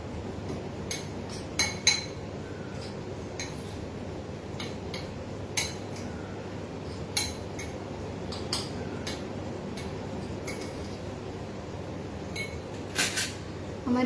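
A spoon clinks against a dish while food is stirred and mixed in a home kitchen, with scattered light metallic taps over a steady low background hum.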